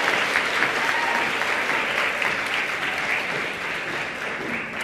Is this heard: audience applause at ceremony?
yes